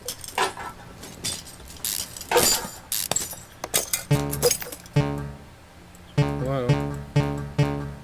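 Small metal clips clink and rattle as they are pried off the valve cover of an air-cooled Maluch engine, with a run of close, irregular metallic snaps and jingles, some brief tonal ringing, and no talking.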